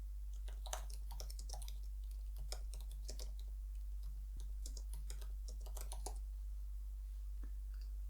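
Keys clatter on a computer keyboard in quick, uneven bursts of clicks, fairly faint over a steady low hum.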